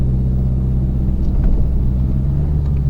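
A Peugeot with a robotic gearbox pulls away from a stop, its engine giving a loud, steady low rumble close by; no distinct shift is audible.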